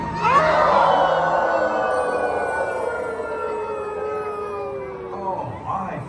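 A group of people at Great Wolf Lodge in Perryville, Maryland howl together, imitating wolves, a loud, long chorus of rising and falling voices that fades out after several seconds.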